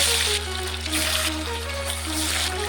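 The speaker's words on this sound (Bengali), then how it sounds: "মাছটাকে উল্টে দিয়েছি, এখন লাল লাল করে একটু ভেজে নেব।" Katla fish, salted and coated with turmeric, fries in hot oil in an iron kadai, giving a steady, close sizzling hiss over a low hum, with no voices.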